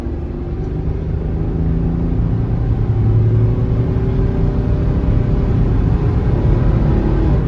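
A 1997 Ford F-150 work truck with a 4.2 engine pulls steadily while driving, its low, even engine drone rising slightly in pitch as it accelerates, heard from inside the cab with no talk.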